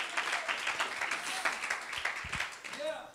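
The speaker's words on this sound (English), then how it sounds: "Somebody clap your hands to the Lord today." Congregation clapping hands at a revival service, a steady patter of applause with voices talking over it near the end.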